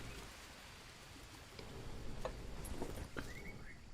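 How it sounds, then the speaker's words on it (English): Steady rain in the jungle survival game Green Hell, a soft continuous hiss with scattered drips and ticks, growing slightly heavier partway through. "They can be collecting water now that it's raining."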